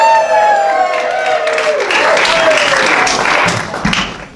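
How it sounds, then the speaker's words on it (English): Audience applause and cheering for Allie, a player entering a stunt game show, forming a steady wash of claps and crowd noise that stays loud throughout, with a whistled or sung tone at the start. "give her a round of applause!"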